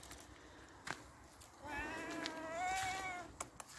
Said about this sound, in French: là, mon chat, il m'attendait